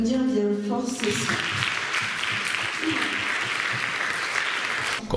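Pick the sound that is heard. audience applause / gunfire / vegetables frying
audience applause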